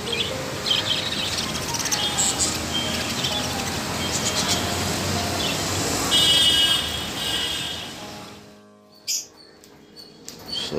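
African lovebirds in an aviary colony, a dense steady wash of many chirps and tweets close by, thinning out abruptly near the end.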